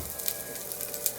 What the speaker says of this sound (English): I'm cooking the onions right now